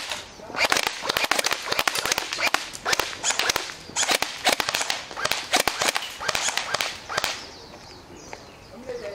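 Semi-automatic gunfire at a shooting drill: a rapid, irregular string of sharp, loud cracks from a group of shooters firing on their own, fading out near the end.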